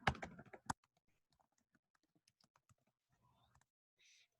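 Typing on a computer keyboard: a quick burst of close, crisp keystrokes at the start, then sparse faint taps and soft murmuring in a quiet room.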